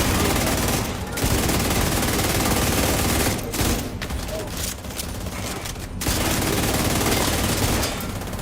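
Sustained automatic gunfire in The Division 2 during the Battle for Brooklyn, loud and dense with brief gaps, a player's voice talking faintly underneath.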